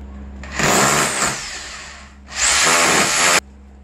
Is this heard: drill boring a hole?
yes